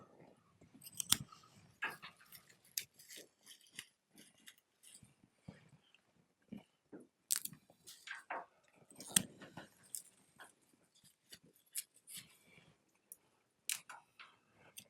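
Scissors snip through fresh flower stems during floral arranging with roses, hydrangea, stock and carnations, giving a scattered series of quiet, sharp clicks and cuts with small rustles between them and no talking.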